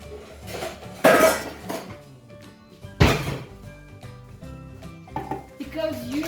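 Bowls and kitchenware clatter during pancake making, with two sharp clanks and scattered clinks against a steady background voice.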